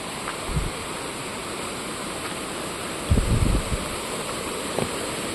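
A village river swollen with floodwater after heavy rain rushes in a steady, broad roar. A few low thumps stand out over the constant flow.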